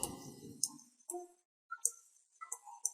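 Mouse clicks in drawing software, a few sharp, brief clicks spaced irregularly, close and fairly quiet with no talking.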